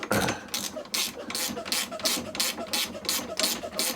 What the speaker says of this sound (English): Just want to undo with a 10mm spanner up the top end.